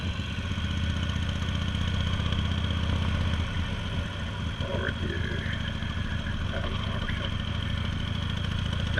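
A motorcycle engine drones steadily while the bike is ridden over sandy and icy ground on the way to Morro Bay, a continuous mid-pitched hum with wind-like roughness and a faint clatter, fairly quiet throughout.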